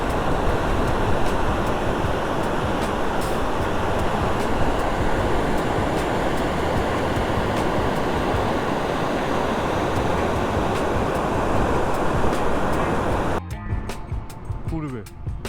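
A monsoon-swollen river rushes in a loud, constant roar that fills the whole stretch, ending abruptly in a short burst of wind-buffeted noise.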